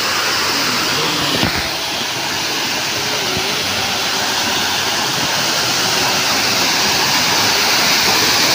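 Talusob Falls, an abandoned waterfall, pours in a constant loud roar of rushing water, close and unbroken, with a brief knock near the start.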